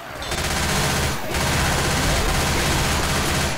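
Sustained automatic gunfire from the video game Left 4 Dead 2 on the Cold Stream campaign, a loud continuous rattle of rapid shots with a brief dip near the start and no pauses after.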